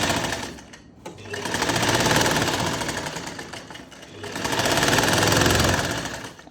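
A sewing machine stitches the side seam of a kurti in two loud, steady runs of rapid needle clatter, separated by a brief pause near the start and a softer dip midway.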